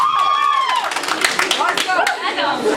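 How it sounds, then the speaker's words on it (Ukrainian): Audience at a karaoke event in an agricultural training centre claps, irregular hand claps in a room, mixed with shouting and excited voices from the crowd. "ваші, ваша оцінка, ваші оплески."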